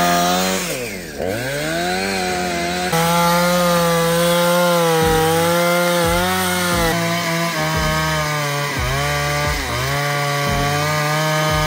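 Wood is sawn at a snowy winter campsite with a motorized saw that revs up and down in repeated surges, its engine pitch rising and dipping through each cut, loud and close with no talking.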